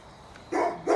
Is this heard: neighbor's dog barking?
yes